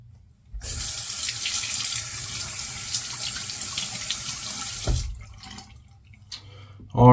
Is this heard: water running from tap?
yes